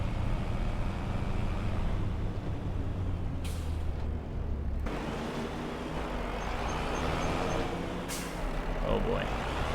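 A truck in Farming Simulator 25 drives along with a steady low engine rumble and road noise, and sharp air-brake hisses burst out twice over it.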